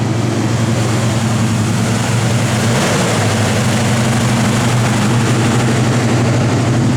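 A 1970 Chevrolet Nova with solid engine mounts idles loud and close, a steady, rumbling low drone that holds without a break, with no talk over it.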